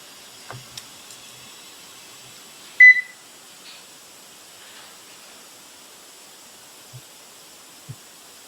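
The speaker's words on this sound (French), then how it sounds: "Ça, c'est le bip, rien d'anormal." A single short electronic beep rises out of near silence, with a few faint clicks scattered around it in a quiet room.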